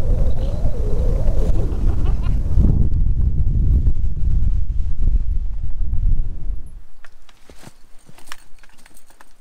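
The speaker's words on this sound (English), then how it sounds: "But yeah, it's windy." Strong wind on a mountain hike in the Adirondack High Peaks buffets the microphone with a loud low rumble, easing after several seconds into gusty, intermittent rustling.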